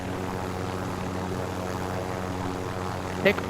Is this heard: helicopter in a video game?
yes